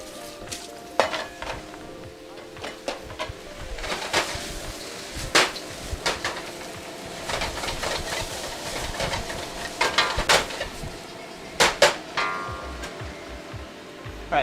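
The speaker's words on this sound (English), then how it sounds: "The sizzling in my wok has suddenly disappeared, and that's because I just put a whole bunch of things into the wok." Moo shu pork ingredients, including bamboo shoots, sizzle and crackle in a hot wok while a utensil scrapes and clanks against the metal in irregular bursts, close and steady throughout.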